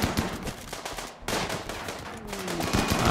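Rapid bursts of chain shotgun fire in the game RimWorld, loud clattering volleys in quick succession with a short pause midway before the shooting resumes.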